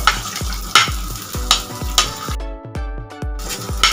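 Finely chopped onion frying in cooking oil in a frying pan, with sharp rhythmic spatula taps against the pan about twice a second over a crackling sizzle, close and loud, and a brief metallic ringing near the end.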